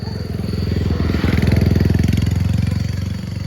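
A motorcycle engine runs close by with a steady, throbbing mid-pitched pulse, swelling slightly in loudness as it goes on.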